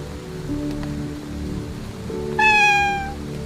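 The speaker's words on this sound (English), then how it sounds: "Cats purr when they're happy and sometimes meow to communicate." A cat gives a single clear, drawn-out meow that falls in pitch, rising over a steady hiss like rain and a low droning hum.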